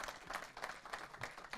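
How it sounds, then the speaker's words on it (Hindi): Audience applause greeting a guest at a film festival conversation session, a dense steady wash of many hands clapping that fills the whole moment at moderate distance, with no talk over it. "बार जोरदार तालियों के साथ आप अपनी पहली उपस्थिति दर्ज कराइए यहाँ पर"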